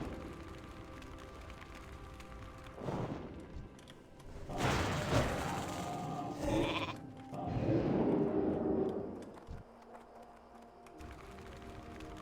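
Bleating sheep cries from a mage's polymorph spell in a video game, several loud bleats over about six seconds, heard up close over a steady game background.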